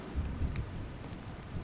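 Rain falls in the survival game Vein, a faint, steady hiss of drops with soft low rumbles and one brief splash-like burst partway through.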